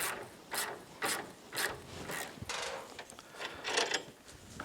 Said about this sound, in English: next we're going to take these two pinch bolts off, and that'll allow us to bring the control arms out of the hub